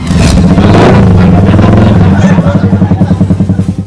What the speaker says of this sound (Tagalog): Kung ingon ini ang kasaba sa imong motorsiklo, dili na kini magamit karong sunod buwan.